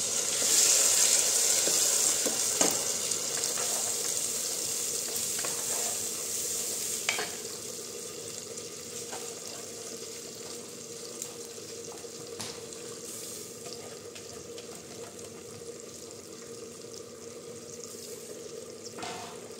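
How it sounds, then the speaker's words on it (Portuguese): Water being poured into a pot of already-cooked beans in a home kitchen, a steady running, splashing wash that starts loudest and settles into a softer continuous trickle, with no talking over it. "Colocar um pouco de água aqui no feijão,"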